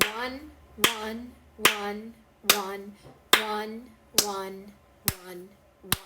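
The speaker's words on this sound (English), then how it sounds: "We're going to clap and count." A single person's hands clap eight evenly spaced quarter-note beats in a steady pulse. Each sharp, close clap comes with a voice counting aloud.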